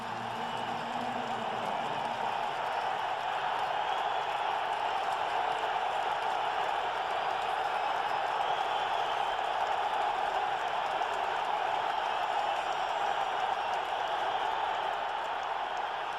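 Stadium crowd at a 2002 Miami Dolphins at New England Patriots football game, a steady, continuous roar of many fans held at even loudness throughout.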